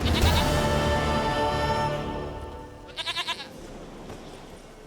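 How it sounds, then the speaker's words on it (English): A goat in The Witcher 3 gives a long, loud, wavering bleat, followed by a few quicker, softer bleats near the end. "Goat of mine, dearest, sweetest goat."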